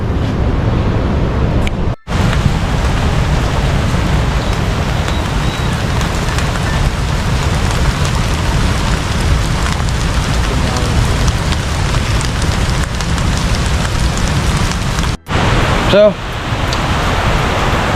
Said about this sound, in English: Now it started to rain again.